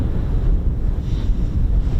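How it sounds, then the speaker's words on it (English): Steady wind buffets the microphone at an exposed air weapons range, a continuous loud low rumble with gusting swells and no other clear sounds. "It's, as usual, windy"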